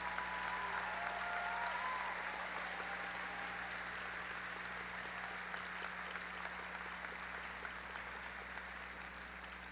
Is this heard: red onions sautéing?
no